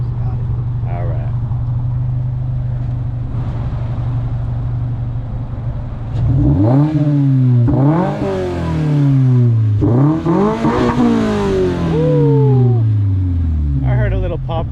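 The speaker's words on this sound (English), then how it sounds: "I'm gonna need like 2 quick revs from you." A car engine idles with a steady hum, then gets several sharp revs that rise and fall in pitch, loud and close, with someone talking over parts of it.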